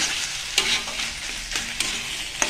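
A stuffing with chopped coriander frying in a pan, a loud close sizzle with a handful of distinct spoon strokes scraping the pan as it is stirred.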